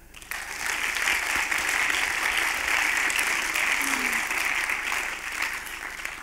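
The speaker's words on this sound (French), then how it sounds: "Je crois que ça peut s'applaudir." An audience at a film festival awards ceremony gives warm applause that swells in quickly and stays full and even for several seconds before easing slightly, with a faint voice briefly under it.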